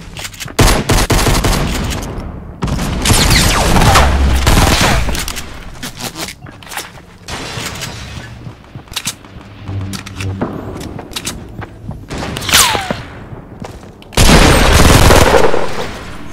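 SMG fire in Fortnite rips out in loud rapid bursts separated by short pauses, with a heavy sustained volley near the end.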